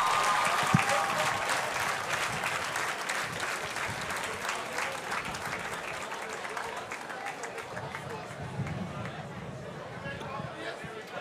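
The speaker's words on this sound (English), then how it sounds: "Please join me in giving the recruits another round of applause." Sustained crowd applause at a military recruit pass out parade, a broad, steady patter of many hands heard from a distance, with chatter and movement mixed in throughout.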